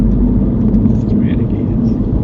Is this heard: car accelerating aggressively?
yes